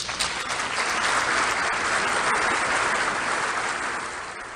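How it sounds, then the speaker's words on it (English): Broad, steady applause fills the United Nations Assembly Hall as a new member state is admitted, a dense wash of clapping from a large assembly that fades slightly at the end. "applause rises in the Assembly Hall"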